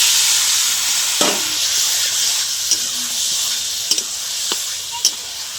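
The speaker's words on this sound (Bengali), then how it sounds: "চিকেনটা ভালো করে ধুয়ে পরিষ্কার করে রেখেছিলাম দিয়ে দিলাম।" Chicken pieces frying in spice paste with turmeric, giving a loud, steady close hiss of sizzling oil punctuated by a few light scrapes and clinks from stirring.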